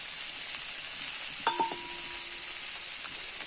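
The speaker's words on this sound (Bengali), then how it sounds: "এবার ভাজা মাছের মাথাটা দিয়ে দিলাম।" A fried fish head is dropped into a pan of simmering spiced curry, giving a soft, even sizzle throughout with a single brief clink of utensil against metal partway through.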